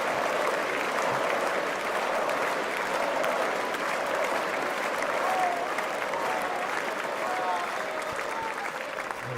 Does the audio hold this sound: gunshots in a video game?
no